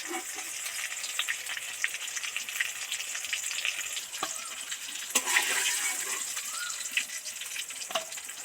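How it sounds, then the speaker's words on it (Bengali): Pieces of pointed gourd deep frying in hot oil give a steady, dense sizzle with bubbling. A few louder pops and crackles rise over it, and no one speaks. "পটলগুলো ঠিক এইভাবে ডিপ ফ্রাই করে ভেজে নিলাম"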